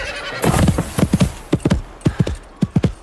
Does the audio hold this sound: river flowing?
no